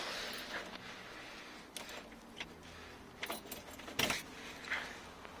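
Car keys jangle and rattle in the ignition of a classic car, several light metallic bursts scattered across a quiet background.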